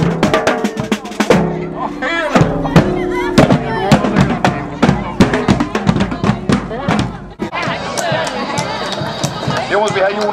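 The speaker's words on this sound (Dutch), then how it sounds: "Jongens, die hebben nog even vuurwerk." Fireworks at a Dutch village festival's evening parade crackle and bang in rapid, uneven bursts, loud and close, while a crowd murmurs and people talk nearby.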